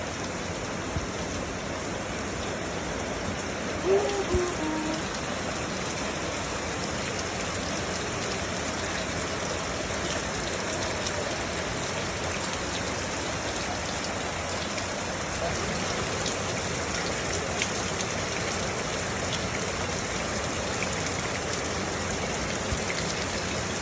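Steady rain falls continuously across the whole stretch, a dense broadband hiss of drops on surfaces that stays even and fairly close throughout, with a brief faint voice murmuring near the start.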